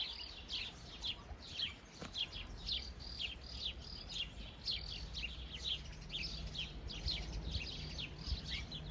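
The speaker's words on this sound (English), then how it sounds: "There are birds chirping the whole way through." Birds chirp continuously in quick, high tweets at moderate distance on Mount Arbel in Israel, overlapping calls over a soft outdoor background hum.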